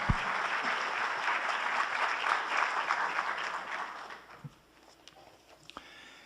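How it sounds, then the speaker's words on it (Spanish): Audience applause at an international symposium on human reason and spiritual science in Guatemala, dense steady clapping from a crowd that fades after about four seconds, leaving a few scattered claps and quiet room noise. "Para él el aplauso ahora en esta nueva conferencia."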